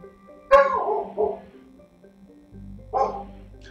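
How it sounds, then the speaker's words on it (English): Dogs bark in a background room during a Mass Effect game stream: a loud burst of barks near the start, a second shorter one a moment later and another round toward the end, with quiet game sound in between. "Hey, bark alert, your dog is barking."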